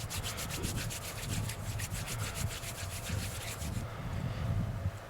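Fat rope fibers are rubbed hard between two hands to fluff them into tinder, a rapid, rhythmic scratchy rasping close up that keeps a steady back-and-forth beat for about four seconds, then softens.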